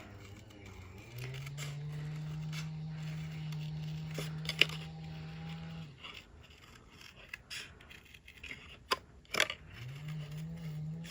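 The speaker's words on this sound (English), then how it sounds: "I'll just speed this up and finish cutting." Steady snipping and rubbing of scissors through paper, soft and close, with a low motor hum running underneath for several seconds and faint clicks.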